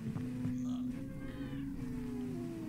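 Cats meowing in an animated show, drawn-out wavering cries rising and falling over a steady low hum, with no talking.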